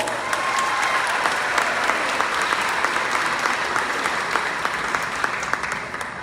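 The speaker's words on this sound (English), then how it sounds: "If you would give them another round of applause." Loud, continuous applause from an audience at a school event, with dense clapping that stays steady and fills the room from start to finish before tapering slightly.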